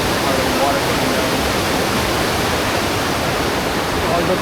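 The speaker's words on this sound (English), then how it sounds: "Here's another angle of the waterfalls. Or the water coming down." Water falls over rocks at a waterfall with crystal-clear water, a loud, steady, broadband rushing roar continuing without a break.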